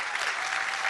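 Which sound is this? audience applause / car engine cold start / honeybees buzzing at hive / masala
audience applause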